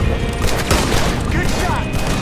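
Gunshots in Red Dead Redemption 2 come as a dense, rapid volley of loud, close shots with little pause between them, mixed with shouting voices.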